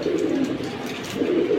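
Pigeons cooing nearby in a collection of military and silver hammer pigeons, soft repeated throaty coos over a steady background murmur.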